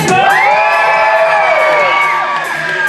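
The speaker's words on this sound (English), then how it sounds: "Blue team, the louder you cheer, the more noise you make, the faster your dog's running today." The blue team crowd at a dog race at Kentucky Kingdom, Louisville, erupts in loud cheering, whooping and children's shrieks, a sustained burst of many overlapping voices close by.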